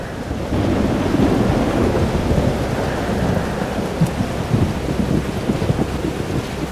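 A thunderstorm in the video game Life is Strange: Double Exposure: heavy steady rain and low rolling thunder rumble fill the scene, with no voices, close and loud throughout.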